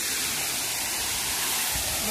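Roaring waterfall in Brazil, swollen after heavy rain, a loud, dense and unbroken rush of falling water filling the whole stretch, with faint voices under it.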